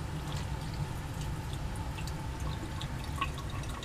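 Water running to rinse acid out of two lab pipettes, a steady close splashing flow with scattered light drips and trickles over a constant low rush.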